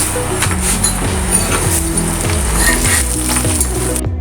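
Ghee poured over a flipped paratha on a hot pan sizzles in a steady, close hiss, with a recurring low rhythmic thumping underneath.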